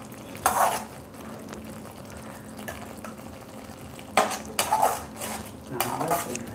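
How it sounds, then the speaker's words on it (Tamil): Tomatoes sauté in a pan for broccoli gravy as a metal utensil clinks and scrapes against the pan in short bursts over a faint background sizzle. "தக்காளி வதங்கிட்டுருக்கு."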